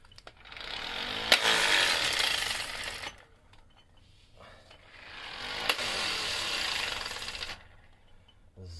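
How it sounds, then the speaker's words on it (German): A 12-volt electric impact wrench with a 19 mm socket, working on a Simson S51 moped's clutch, hammers in two loud, rough bursts of about two seconds each, separated by a quiet pause, with no talking. "so ein 12 Volt Elektroschlagschrauber"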